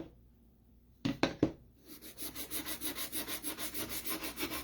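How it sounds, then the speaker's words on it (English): Hand sanding of wooden heart cut-outs: a few quiet scrapes, then steady rhythmic back-and-forth rubbing strokes, close and fairly even in loudness. "you didn't have to wait and watch me sand"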